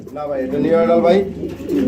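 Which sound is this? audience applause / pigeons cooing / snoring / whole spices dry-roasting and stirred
pigeons cooing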